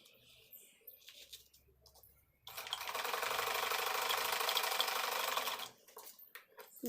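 A sewing machine stitches fabric for a patiala salwar, its fast rattling whir starting after a quiet stretch of small handling sounds, running steadily for about three seconds and then stopping, heard close up with no talk.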